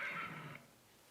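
A horse neigh played back from an audio file, one brief whinny that fades within about half a second, faint and thin as if through a computer speaker.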